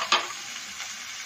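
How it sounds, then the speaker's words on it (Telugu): Food frying in a pan for a chickpea flour curry, a bright continuous sizzle with a short sharp burst at the start, close and steady throughout. "ఒకసారి అన్ని ఫ్రై చేసుకొని"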